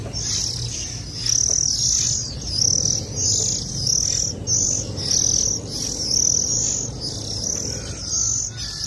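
Oriental magpie-robin chicks chirping in a steady repeating series of high, thin calls, about one per second, close by over a continuous low background hum.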